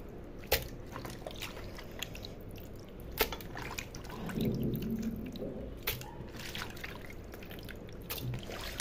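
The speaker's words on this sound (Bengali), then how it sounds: "এখন আমি মশলা দিয়ে মাখাবো।" Hands mix washed pieces of meat with spices in a bowl, giving soft wet squishes and drips with a few sharp clicks, close and quiet, with no talking.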